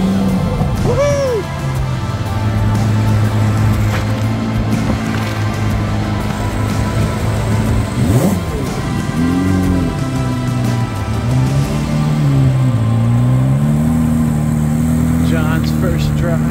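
A brand new 2023 Corvette Z06 being driven around a circle at the National Corvette Museum, its engine a loud continuous drone that rises and falls in pitch as it moves, with people talking over it.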